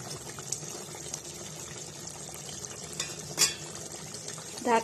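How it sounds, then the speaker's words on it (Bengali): A spoon stirs chicken pieces and tomatoes simmering in a pot for biryani, with a soft bubbling, wet bed of sound and a couple of sharp utensil clinks against the pot. "ঢাকনাটা খুলে নাড়াচাড়া করছি, দেখো কত সুন্দর জল বেরিয়েছে।"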